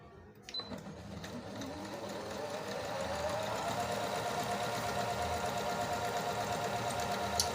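A Singer Lady Coast 9600 sewing machine stitching a decorative pattern, starting with a few clicks and then settling into a steady, close, rapid mechanical whir that holds to the end.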